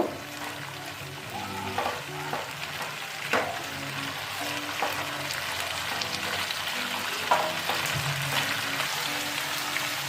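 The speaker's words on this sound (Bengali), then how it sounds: "বিনস আর আলু দিয়ে আমি একটু নাড়াচাড়া করে নেব" Beans and potatoes fry in a pan with a continuous sizzle, while repeated scrapes and knocks of a spoon stir them at a moderate, uneven pace.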